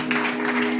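Applause rises from a church congregation during a pastor's sermon at a Calvary Preeti Ministries service in Bidar, a steady dense wash of clapping with a low hum beneath and no clear talk.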